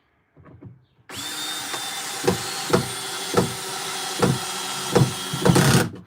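A power drill whines steadily while driving screws into a countertop during assembly, with a brief low rumble first and then regular heavy thumps about every second as each screw seats, ending in a louder burst before cutting off.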